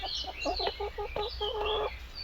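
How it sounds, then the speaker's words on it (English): A chicken clucks on a 4-acre farm in Spain: a quick run of short, regular clucks, close and fairly loud, with outdoor background noise and no talk. "this chicken's trying to undo my laces."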